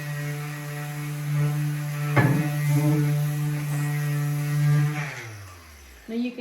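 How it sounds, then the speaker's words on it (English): A medium-grit electric sander works on an old wooden bar stool, giving a steady, close droning motor hum that shifts slightly under load and winds down in pitch near the end. "So I'm going to go ahead and get this sanded down."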